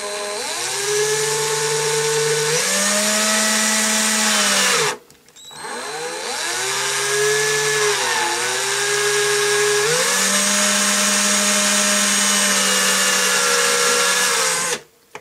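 Power drill boring a hole into a vintage Kenner Centurions toy arm, a loud steady whine that shifts pitch several times, briefly stops midway, then resumes before cutting off.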